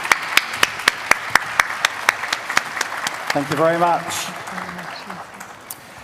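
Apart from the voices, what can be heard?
applause for the Minister of Health from Brazil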